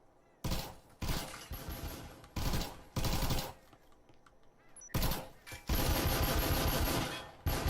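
Gunfire in the VR tactical shooter Breachers VR comes as loud bursts of automatic fire in several separate volleys with short gaps between them, the last burst longest.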